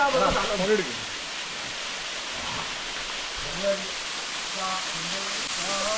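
A forest waterfall in Kozhikode roaring as a steady broadband rush of falling water, with people talking over it at moderate distance.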